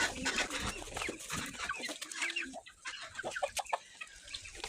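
Busy poultry chatter with overlapping quacks from several domestic ducks nearby, continuous and lively, with no talking.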